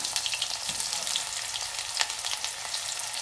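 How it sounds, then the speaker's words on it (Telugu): Onions sizzle in a pan of hot oil with cumin and mustard seeds, a steady close-up frying crackle that continues alone without pause. "నేనైతే ఇప్పుడు ఆనియన్స్ అయితే వేసుకుంటున్నాను"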